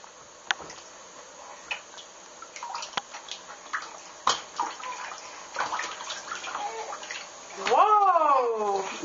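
A baby kicks and splashes in bathtub water, giving scattered light splashes and drips nearby, while an adult talks and coos throughout.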